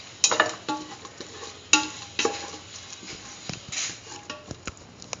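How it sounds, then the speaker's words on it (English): A spoon stirs a corn, coconut milk and rice mixture in a pot, giving irregular scraping knocks and soft wet clatter close up, with no talking. "Thoroughly mix."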